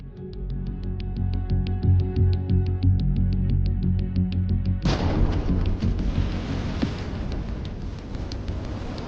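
A Ukrainian drone's powerful anti-tank grenade explodes inside a Russian tank after flying through its open hatch near Avdiivka. A steady buzzing hum gives way halfway through to a sudden loud blast that roars on as a sustained rumble, with no voices.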